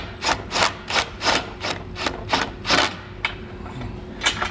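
A wrench turns bolts on a hidden hitch rack receiver, making a steady series of close, regular ratcheting rasps at a brisk rhythm, with no talking.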